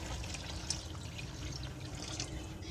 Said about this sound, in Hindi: पानी थोड़ा ज़्यादा डालेंगे